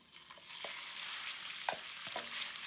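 Marinated beef sizzles steadily in a hot stir-fry pan, a bright continuous crackle with a few soft clinks of stirring, close by and without talk.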